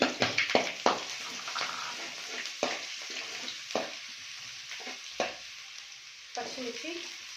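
Garlic and ginger sizzle and spit in hot chicken-frying oil, with a run of loud crackling bursts early on and scattered pops, stirring clinks and a softer steady fry between them.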